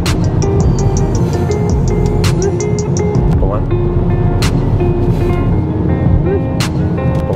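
A Tesla Model 3 SR+ cruises on autopilot at 80 km/h, a steady road and cabin hum with tyre roar running throughout, a few soft chimes early on, and a person talking over it.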